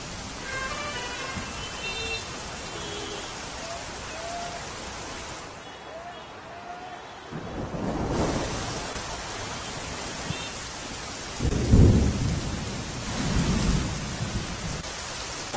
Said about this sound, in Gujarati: અમદાવાદમાં લાંબા સમયના વિરામ બાદ ફરી એક વખત વરસાદે બેટિંગ શરૂ કરી છે